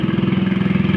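A boat engine pushes through thick water lilies on a flood-swollen river, a loud, close, rhythmic chugging with even, rapid pulses.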